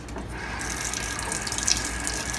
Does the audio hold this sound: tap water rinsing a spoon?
yes